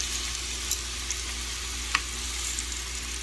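Steak searing in olive oil in a pan, a soft, even sizzle with a low hum beneath and a few small pops and spits, no voices.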